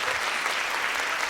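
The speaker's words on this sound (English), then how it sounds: "We're gonna put an applause." A dense burst of clapping from a crowd in an applause sound effect, loud and steady throughout the short moment, with no voices over it.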